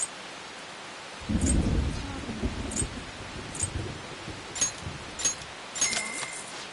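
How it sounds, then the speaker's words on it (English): Heavy rain and thunder in the video game Persona 5 Royal: a steady hiss of rain with a deep rumble of thunder early on, then soft intermittent crackles and taps. "It's raining really hard."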